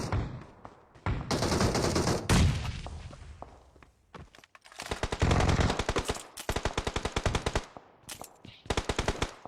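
Gunfire in the mobile battle-royale game PUBG Mobile comes in loud, close bursts of rapid automatic shots with single reports between them. A brief lull about halfway through is followed by more sustained strings of fire.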